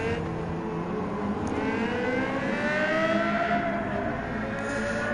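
Lexus V10 race car engine in Gran Turismo 7, a steady high, rising whine with gliding harmonics as it revs through gears, loud and continuous with no talking.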